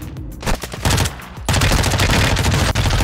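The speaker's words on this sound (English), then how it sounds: "Shotgun, bro." Video game gunfire from a shotgun, a loud close flurry of rapid shots forming a dense, continuous burst after a few scattered blasts.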